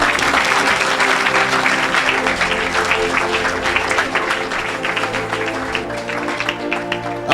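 A church congregation claps steadily and enthusiastically for the Lord, a dense, continuous wash of applause that stays loud throughout, with faint voices and music underneath.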